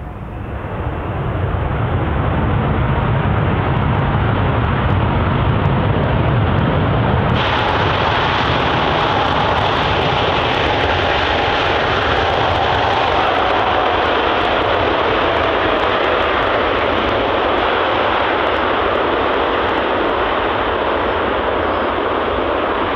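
Loud, continuous roar of Airbus A380 jet engines on a runway after landing, a broad rushing noise that shifts in tone partway through, with no voices.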